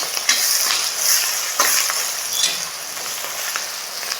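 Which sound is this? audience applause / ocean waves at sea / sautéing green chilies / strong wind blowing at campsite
sautéing green chilies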